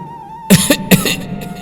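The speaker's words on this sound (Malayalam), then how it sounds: "വെറുതെ ചുമച്ച് തൊണ്ട പിടിക്കണ്ട" Two quick, harsh coughs in succession, loud and close, followed by a brief throaty rasp.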